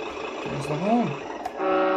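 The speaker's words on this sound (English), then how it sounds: "the horn." An RC truck's horn from an ESS Dual sound system blows one short rising-and-falling toot over a steady simulated engine hum, then the hum continues alone.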